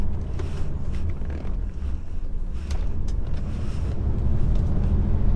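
HGV truck driving up an off-road hill track in third gear, a steady loud low engine drone with heavy rumble and some wind buffeting throughout, no speech.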